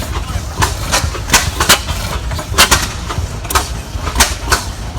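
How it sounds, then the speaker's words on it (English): A 1907 20-horsepower oil-field hit-and-miss engine runs at an outdoor engine show, firing sharp pops in an uneven rhythm over a low, rumbling chug, close and fairly loud. "little hit miss motor action for you"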